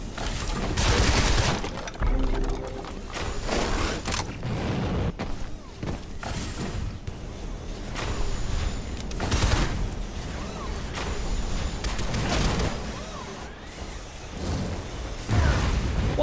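Enemy gunfire erupts in the video game Shadow Complex Remastered, with repeated bursts of shots and occasional pops or blasts spread across a busy, loud stretch of action, and a player speaks briefly between the shots.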